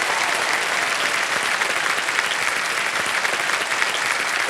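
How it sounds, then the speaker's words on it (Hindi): Loud, dense studio audience applause on a televised quiz show set, a continuous even roar of clapping from start to finish. "तालियां बजाएं के लिए।"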